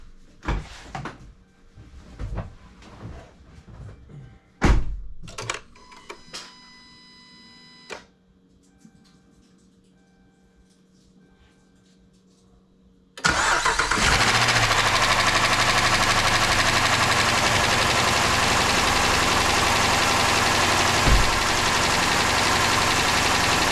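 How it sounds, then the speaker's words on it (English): A Dodge Durango, just repaired for a misfire on cylinder 7, is cranked after some clicks and clunks of tools and panels. It then fires and settles into a loud, steady, close idle that holds to the end. "I'm gonna go ahead and crank it over"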